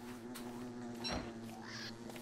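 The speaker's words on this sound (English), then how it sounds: "Oh, that's a normal bee." A bee from the video game Don't Starve buzzing steadily with a droning hum, fairly faint, with a few small clicks and game effects over it.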